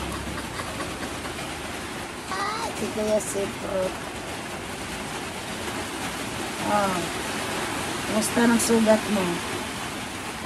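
Heavy rain from a stormy sky falls outside a shop as a steady broadband hiss, with people talking intermittently over it.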